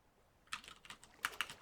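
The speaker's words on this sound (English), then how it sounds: "I was typing in Twitch chat" Someone types on a computer keyboard into Twitch chat, a quick run of faint clicky keystrokes with a few sharper taps near the end, heard alone against a quiet room.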